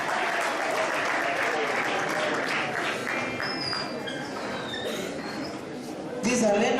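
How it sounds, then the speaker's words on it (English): Sustained applause from an assembled audience at a school event as a percussion band of young learners enters, steady and dense throughout, with a louder burst near the end. "May we give them a round of applause as they enter."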